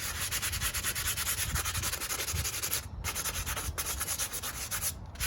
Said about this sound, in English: So this is a 60 grit sandpaper. It's very rough. And this is good for removing material.